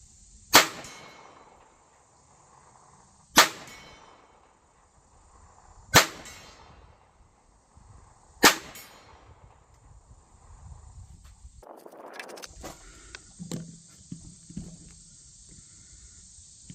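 Four sharp metallic rings from a steel target struck by .22 rounds from a Taurus TX22 pistol at 50 yards, each ding spaced a few seconds apart and fading quickly, followed by quieter shuffling and handling noise.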